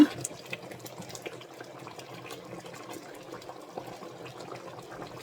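Jaffna-style chicken porridge bubbling and simmering in a pot, a steady soft wet gurgle with small pops throughout, close and fairly quiet with no talking.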